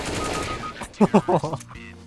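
AK rifle fire in the video game CS:GO, a quick burst of four or five loud shots after a stretch of game noise, with a voice talking faintly underneath.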